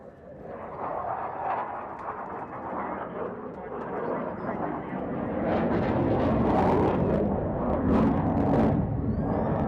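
Roaring jet noise from an F/A-18F Super Hornet during a low-speed pirouette at a beach flying display, a broad continuous rumble that swells louder toward the end, with a commentator's voice underneath.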